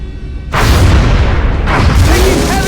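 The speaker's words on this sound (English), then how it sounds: "Taking heavy fire!" Heavy gunfire and explosions in the video game XCOM Enemy Within: a loud, dense blast erupts after a brief quieter lead-in and sustains as a roaring barrage, with a second surge of booms near the end.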